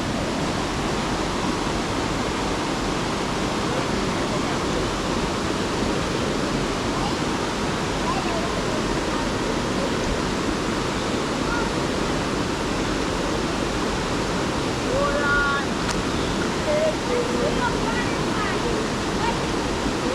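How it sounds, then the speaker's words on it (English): River water rushes steadily in a hidden river in a backyard in Jamaica, a loud, dense, unbroken wash close by with no pauses, and no voices are heard. "river water"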